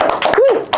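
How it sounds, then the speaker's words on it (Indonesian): A short burst of hand clapping, a few quick sharp claps from a small group, with a brief voice sounding over them. "Tepuk tangan dong"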